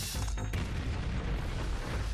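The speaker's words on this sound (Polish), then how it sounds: "Taki wybuch." Explosion in the video game Duke Nukem: Manhattan Project, a sudden sharp blast followed by a dense, rumbling low roar that fills the rest of the moment, with no talking.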